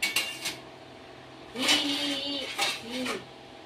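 A large metal plate clinks and rattles as it is handled in a home kitchen while puri bhaji is being made, several short ringing clanks close by, with a voice speaking briefly at the start.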